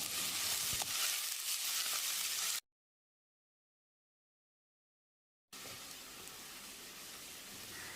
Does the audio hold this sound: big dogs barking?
no